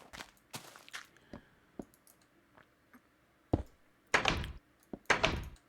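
A Minecraft door worked by a button in the Alpha version of the game gives a scatter of short clicks and thunks, then two loud, close, blocky door-like bursts near the end, with no talk.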